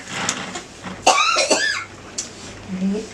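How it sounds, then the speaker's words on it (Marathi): A grandmother coughs in a couple of harsh, close bursts around the middle, with short throaty sounds and faint background speech before and after. "काय करू, मला खोकलाच येतोय आज"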